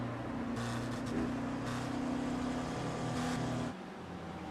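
An SRF race car engine in iRacing diesels at Lime Rock Park, a steady droning hum with pulsing tonal layers that keeps running, then drops away abruptly near the end, leaving a faint lower rumble.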